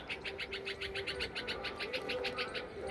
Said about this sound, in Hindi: देखिए कुछ चिड़िया की आवाज़ ऐसे आ रही है, कुछ बातें ही करने नहीं दे रही है।